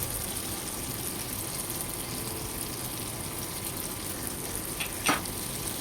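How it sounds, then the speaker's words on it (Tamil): Grapes are sautéed in a pan over a slow flame for an instant grape pickle, making a soft, even sizzle with a single clink of the spoon near the end and no speech. "திராட்சையை போட்டு நம்ம நல்லா வதக்கிக்கிறோம். ஸ்லோ ஃப்ளேமில் வச்சு வதக்கிக்கோங்க."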